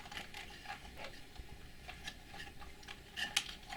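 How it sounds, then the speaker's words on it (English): Amplifier output connectors being pressed into keyed sockets on an ICEpower 1200AS2 amplifier board, faint scattered plastic clicks and ticks close by, ending with a couple of sharper snaps. "Just plug them in a socket according to key direction."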